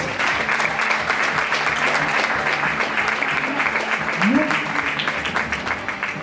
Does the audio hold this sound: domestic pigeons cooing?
no